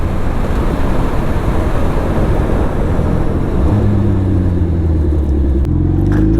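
A Suzuki Hayabusa motorcycle engine runs loud and close, a steady rumbling drone that swells into a rising rev near the end.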